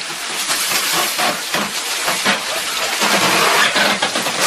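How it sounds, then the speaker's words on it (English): A turning water wheel makes a steady, loud rushing and splashing of water with a continuous churning hiss, close by and without any talking. "This is the noise of a water wheel."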